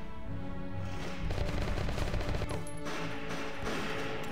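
Rapid bursts of gunfire crack and rattle in a battle in the war game Valkyria Chronicles, dense overlapping shots over a rumbling background, loud and near with no talk.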